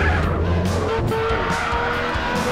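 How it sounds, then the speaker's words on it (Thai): A modded Ferrari FXX-K spins out in GTA San Andreas, its engine roaring loudly under continuous tire screeching and skidding. "แรงแรงโอ้รถหมุนรถหมุน"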